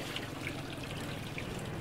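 Water falls and trickles at a resort in Pasig, a continuous close splashing patter with a few brighter drips on top.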